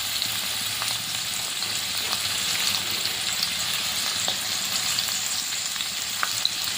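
Papaya frying in a pan for street-style chowmein gives a steady, close sizzle with faint stirring scrapes throughout and no voices.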